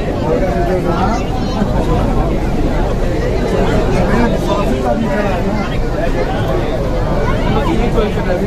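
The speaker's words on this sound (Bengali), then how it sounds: "বাট সেকেন্ড দিনে তো ভাই বিভৎস ভিড় হয়েছে" A dense, steady babble of many voices fills a packed carriage of Kolkata's underwater metro train on its second day of service, with train rumble underneath the constant chatter.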